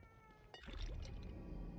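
A cat in the video game The Evil Within 2, giving a faint meow over a quiet game background with soft trickling and low rumble, heard alone without talk.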